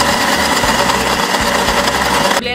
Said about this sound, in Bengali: এবার আমি ভালো করে ব্লেন্ড করে নিব